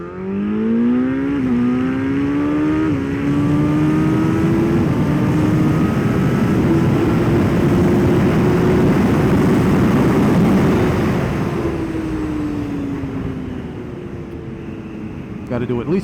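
Yamaha FZ1 motorcycle accelerating hard on an open road, its engine winding up loud and close through several gear changes, with heavy wind rush throughout, then easing off toward the end.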